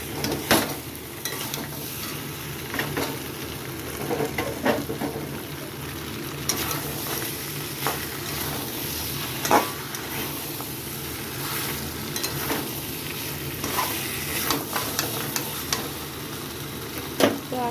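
Mutton sautéing in oil in a pan, with continuous sizzling and frying under repeated scraping and stirring strokes of a utensil, close and fairly loud throughout.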